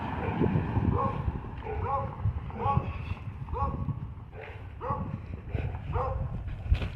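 Police dogs bark in repeated, evenly spaced bursts amid a crowded outdoor scene, with talk and background noise throughout.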